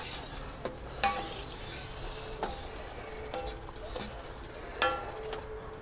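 Ingredients for a breakfast burrito get stirred around in a heating pan, with a low frying hiss under scattered scrapes and taps of the utensil against the pan.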